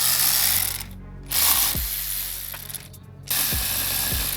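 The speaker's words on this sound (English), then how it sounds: "He cranked it once and then did the ratchet" A ratchet wrench clicks in short bursts while tightening a part during a blow-off valve install on a 2023 Genesis G70 3.3T, close and crisp, with quieter pauses and dull thuds between the ratcheting runs.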